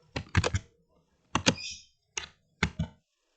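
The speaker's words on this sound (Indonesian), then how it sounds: "Di sini saya bisa ketik" Typing on a computer keyboard while editing a design template, four short clusters of crisp key clicks with brief silences between them, close and clear with no voices.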